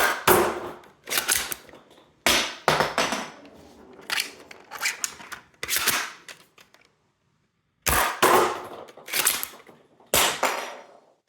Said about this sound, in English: They shoot in a triangular pattern, which is really cool. it puts a lot of darts downrange.